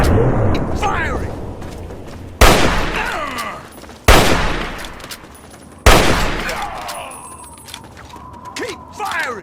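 Loud gunshots in Fallout 3 strike in about four sharp blasts a couple of seconds apart, each followed by a ringing decay. A voice shouts commands between the shots.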